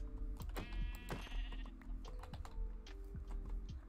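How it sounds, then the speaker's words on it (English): Sheep bleat in a video game, several wavering, quavering calls close up and fairly loud, overlapping one another with a few light clicks underneath. "let's kill these sheep to get their wool"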